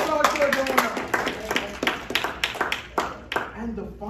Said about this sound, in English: Give a big hand and applause to the donor.